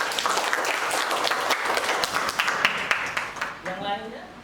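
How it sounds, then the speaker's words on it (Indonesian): A classroom of students gives a fellow student a round of applause, a close, lively burst of clapping that thins out toward the end as a voice begins to speak. "Kita kasih aplaus dulu untuk Hana"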